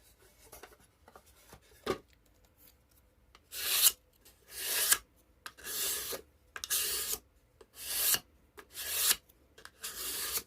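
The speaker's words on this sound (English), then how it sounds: "I am rubbing with the grain so that I can get the ink out of the grain." Acetone-soaked cloth rubbing along the grain of a thrifted wood piece to lift ink, a series of regular rasping strokes, close and fairly quiet, with short pauses between them.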